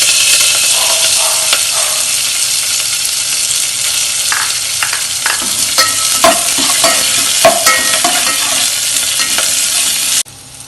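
Onions with curry leaves sizzle steadily in a hot pan while a utensil stirs and scrapes now and then, close and continuous, ending abruptly, while making goat leg soup.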